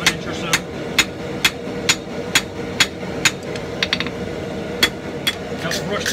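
Hammer blows ring on hot steel at an anvil while a Viking axe is forged, sharp regular strikes about twice a second over a steady roar of background noise, close and loud.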